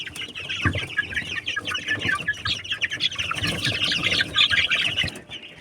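Young chickens from a first incubation, Jersey Giant and Dalmatian Leghorn, in a brooder give a busy chorus of close peeping and clucking with bursts of wing flapping and scuffling throughout. No voices.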